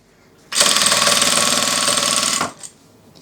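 A 1200 sewing machine running at high speed while fabric is fed through, a loud, steady, dense mechanical whir lasting about two seconds and stopping abruptly.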